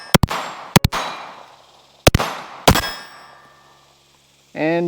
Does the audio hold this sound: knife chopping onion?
no